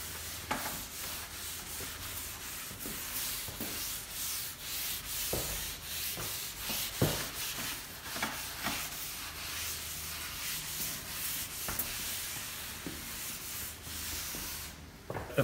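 Steel wool wet-scrubbing chemical stripper and old varnish from a wooden dining table, a continuous close rough rubbing with repeated rhythmic scrubbing strokes, alone without talk.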